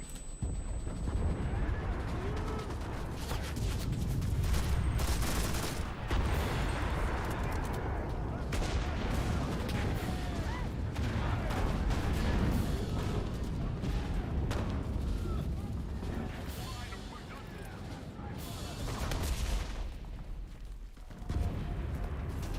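Gunfire and explosions rumble continuously in the World War II shooter Enlisted during a Battle of Berlin match, with a grenade blast in the mix and dense, loud battle noise throughout.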